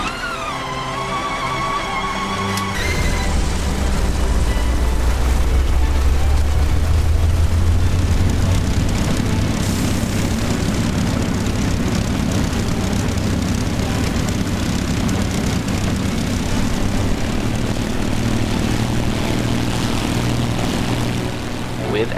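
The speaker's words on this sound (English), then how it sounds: "let's return to our aircraft and energize the engine" A Spitfire engine starts up in the A2A flight simulator game, a whining starter giving way to a loud roaring propeller rumble that settles into a steady, powerful idle, close and sustained.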